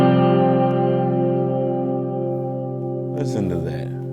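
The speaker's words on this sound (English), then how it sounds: "this is the kind of reverb sound we've got" Sustained electric guitar chord ringing out with lush reverb, steady and loud, then a brief burst of picked notes near the end.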